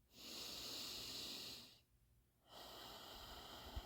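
Slow, deep breath drawn in and let out close to the mic, a long airy inhale, a short quiet pause, then a softer breathy exhale.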